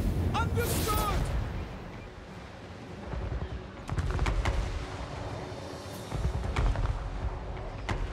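Artillery and gunfire from the video game Total War Warhammer 3 crackle in scattered volleys and booms at middling loudness, with sharp reports clustered near the start and later, while voices talk over the battle.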